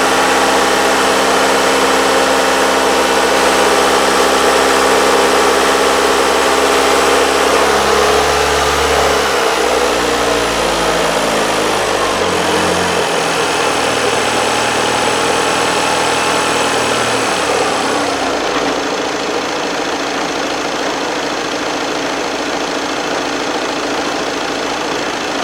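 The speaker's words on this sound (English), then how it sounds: "Now I'm going to decrease the engine RPM" A 2.0 TDI common-rail diesel engine in a VW Passat with an EGR fault idles loudly and close up, a steady rumbling hum whose pitch drops step by step as the revs fall, then settles lower.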